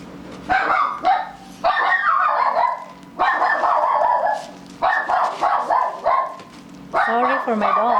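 A pet dog named Danny barks and yips repeatedly in loud bursts close by indoors, with some whimpering and brief pauses between bursts.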